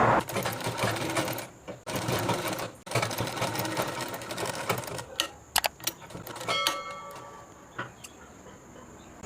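A sewing machine stitches a men's kurta in bursts of rapid, steady whirring, pausing between runs, with light ticking and clicking of handling at the end.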